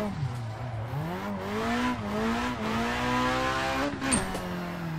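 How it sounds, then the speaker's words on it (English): A Foxbody Mustang in a driving video game, with ABS off on the Pacific Coast Highway, revs up toward redline repeatedly, its engine note climbing and dropping across shifts, with brief tire squeals and a voice talking over it. "I love hearing this thing get the top of the red line"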